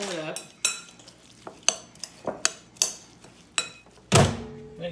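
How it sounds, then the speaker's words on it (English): A utensil clinks and scrapes against a dish while coriander, cumin and other spices are mixed for chicken enchiladas, giving a series of sharp, close taps with a louder clatter near the end. "And you want to mix all that up."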